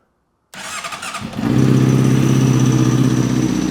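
A Honda motorcycle engine with a large hole in the motor starts after a short silence. It catches and settles into a loud, steady running idle, close by and alone.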